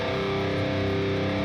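Electric guitar played through a Helix Native distortion amp sim, heard as a loud, thick sustained chord ringing out alone with a dense buzzing distorted tone.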